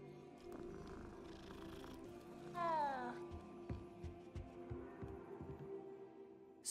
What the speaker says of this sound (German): Katze.